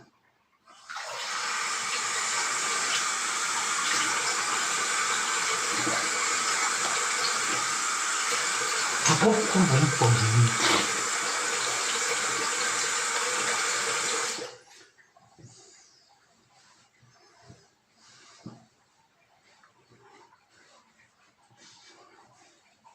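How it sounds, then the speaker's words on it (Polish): A bathroom sink drains while cold water runs from the tap. The rushing flow stays loud and steady for about thirteen seconds, then cuts off, leaving faint shuffling and a few short spoken syllables. "Wypuszczam wodę z umywalki, a to już jest znak świadczący o tym, że puszczam zimną wodę"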